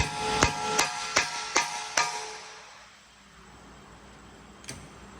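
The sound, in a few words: hammer tapping impact driver on rotor screw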